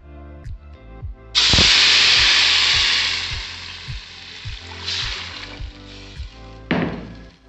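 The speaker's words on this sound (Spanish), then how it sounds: "Para poner a freír lo que es la salsa" Salsa poured into hot oil in a pan sizzles loudly with a sudden burst of frying, then fades into softer crackling with a few more hissing flare-ups, over a steady rhythmic thumping in the background.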